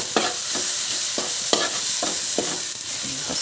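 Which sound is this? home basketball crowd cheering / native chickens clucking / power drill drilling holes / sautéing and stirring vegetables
sautéing and stirring vegetables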